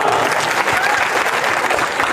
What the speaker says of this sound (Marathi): यांच्यासाठी जोरदार टाळ्या वाजवा